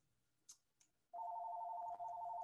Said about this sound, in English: Of course, my phone rings, right?